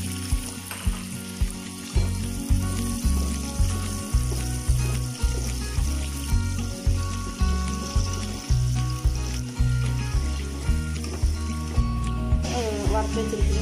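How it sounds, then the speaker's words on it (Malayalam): Cashews and raisins frying in oil for chicken biryani crackle in a steady close sizzle, overlaid by regular rhythmic scraping strokes of stirring in the pan. "പരിപ്പും മുന്തിരിയും കൂടി കിസ്മിസും കൂടി നമുക്ക് ഒന്ന് ഫ്രൈ ചെയ്ത്"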